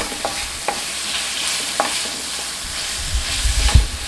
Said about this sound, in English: In a medium flame, let the onions get sorted out till golden brown.